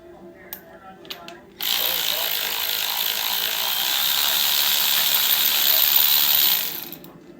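A power tool ratchets off rocker bolts on a Chevy engine during valve seal work: a few light clicks, then a loud, sustained buzzing rattle of the impact mechanism for about five seconds before stopping.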